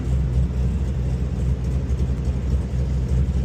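A Hyundai Genesis Coupe with a swapped LS V8 engine cruising along a bumpy road, its low, steady engine drone and exhaust rumble heard close and continuous from inside the car, with no talking.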